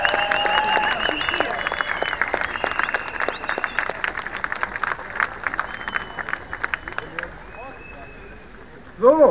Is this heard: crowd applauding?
yes